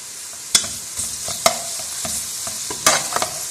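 Onions sizzle and fry in hot oil until light brown, with a steady crackle and occasional scraping stirs of a spoon against the pan.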